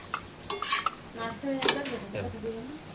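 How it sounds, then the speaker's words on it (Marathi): Metal utensils scrape and clink against a pan as food is flipped over during home cooking, with a few sharp clatters and a faint sizzle, moderately close, with no one talking. "पहिला परत पलटी मारा"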